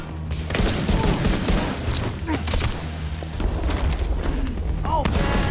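Dense, loud gunfire and explosions fill a firefight in the video game Tom Clancy's The Division 2, with rapid overlapping bursts and booms and voices shouting throughout.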